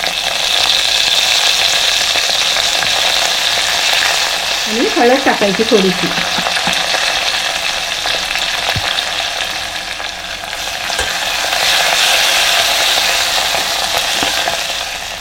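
Spices sizzle loudly and steadily in hot tempering oil (phodni) with curry leaves, asafoetida and a little turmeric, cooked for a buttermilk dish on a gas stove. The frying hiss runs throughout, and a person talks over it.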